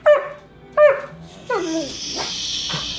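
A dog gives two sharp barks about a second apart, then a whiny yelp and a few softer whimpering yips, close up, with faint noise behind.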